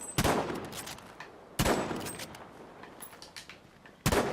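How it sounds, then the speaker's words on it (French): Three loud, close gunshots ring out in Battlefield V, spaced over a few seconds, each followed by a decaying echo over quieter battlefield ambience. "Ouais, je me fais tirer dessus."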